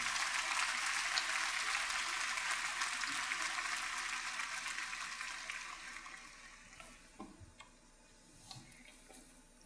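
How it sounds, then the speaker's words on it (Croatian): Audience applause fills Paul VI hall during a papal general audience, a dense steady clatter of clapping that gradually thins and fades toward the end, with no talk over it. "Pozdravljamo i njih s jednim pljeskom."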